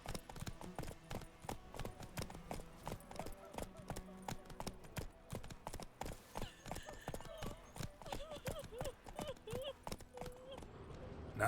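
Roach the horse's hooves clip-clop steadily in The Witcher 3, a rapid rhythmic patter of hoofbeats running the whole way under game music and occasional character voices.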